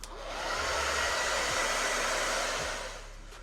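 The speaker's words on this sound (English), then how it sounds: "We're going to continue to blow dry, but we just want this to kind of get tacky." A hair dryer blows steadily and loudly on hair being dried until just tacky during a frontal wig install at a salon, a continuous broadband roar that swells in at the start and tapers off near the end, with no talk.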